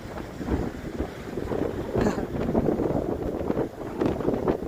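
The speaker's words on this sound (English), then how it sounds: "It's not so much that it's snowing out there, it's just windy." Gusty winter wind at Niagara Falls buffets the microphone in a steady, loud rumble, with a brief rise in hiss partway through and no talking.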